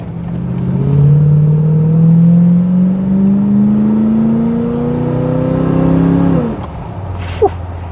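A 1970 Chevrolet Caprice with a 350 V8 and Turbo 350 automatic pulls hard through first gear, a loud steady engine drone rising in pitch for about six seconds before the shift drops it away.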